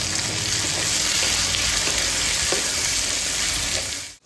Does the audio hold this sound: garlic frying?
yes